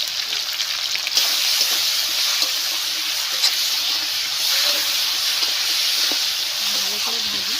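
New potatoes frying in oil in a pan for alur dom, a steady dense sizzle and hiss running throughout, close and fairly loud, with faint clinks and a brief low voice near the end.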